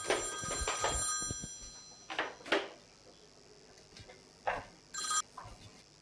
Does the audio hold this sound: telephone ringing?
yes